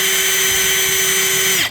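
A Milwaukee drill bit bores into metal with a loud, steady high whine from the power drill that holds for under two seconds and then winds down abruptly, close up and without speech.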